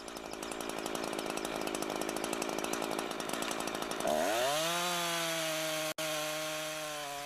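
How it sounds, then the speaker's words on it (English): A chainsaw at full throttle cuts into a standing tree while felling, a dense steady buzz that drops into a lower, strained, sustained whine as the chain bites into the wood, loud and close with no talking. "Give the saw full throttle and start sawing."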